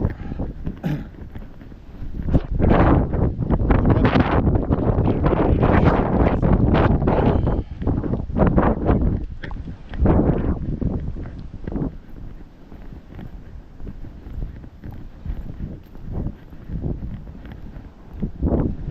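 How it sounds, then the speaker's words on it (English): Strong gusts of wind buffet the microphone on a windy night walk in Maine at 29 degrees and about 15 mph, rising into loud roaring surges and easing to quieter rushes, with no voices heard. "when it's 29 degrees and we have 15-mile-an-hour winds like we have now"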